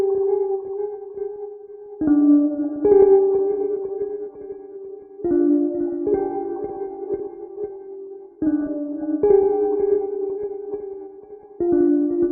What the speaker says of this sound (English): next I used Omnisphere for this sort of droney bell sound